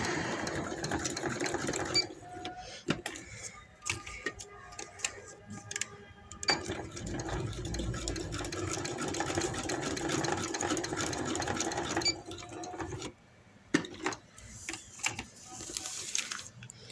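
A sewing machine stitches embroidery along a trouser hem, running in steady, fairly quiet mechanical clatter with a few brief stops and restarts.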